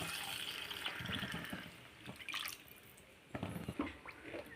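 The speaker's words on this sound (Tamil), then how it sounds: "நம்ம அரைச்சப்போ அம்மியை கழுவி தண்ணி எடுத்தோம் இல்லையா, அந்த தண்ணி மட்டும் சேர்க்க போகிறேன்" Water from rinsing a stone grinding slab is poured into a cooking pan in short splashing bursts and trickles, fairly faint and close, without talk.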